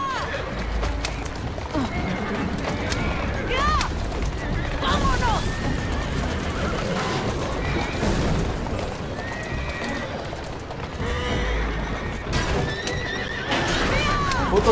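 Horses neigh and whinny repeatedly with galloping clip-clop hooves in the video game Assassin's Creed Syndicate, loud and close amid carriage commotion, with voices shouting over it.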